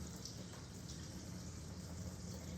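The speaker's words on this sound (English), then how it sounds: "Now we're just gonna drain out the water" Water draining out of a lidded pot of soaked chiles, a steady faint rushing gush that holds level from start to end with no voices.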